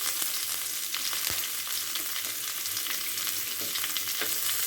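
Onion and curry leaves frying in oil alongside roasted garlic give a steady, dense sizzle throughout, with a few light stirring scrapes and pops and no talking.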